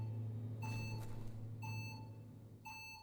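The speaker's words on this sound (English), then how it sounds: "beeping's probably bad" A warning beep sounds in the video game Biomutant, three evenly spaced electronic tones about a second apart over a steady low hum, moderately loud.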